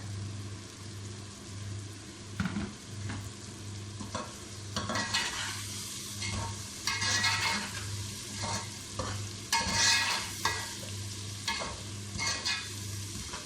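A paste of ginger, garlic, tomato and green chili frying for mutton, with a continuous moderate sizzle, repeated spoon scrapes and stirring bursts, and a low steady hum beneath.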